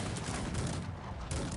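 Cannon canister shot fire in the video game Cossacks 3, a dense continuous roar of overlapping gunfire and booms from a large battle, loud and close.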